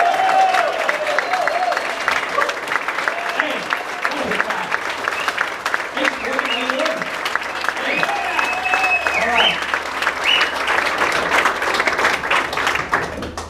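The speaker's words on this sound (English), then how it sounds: "let's give a big round of applause" A large crowd at a Republican political rally applauds steadily for several seconds, dense clapping with scattered cheers and voices mixed in, loud and sustained.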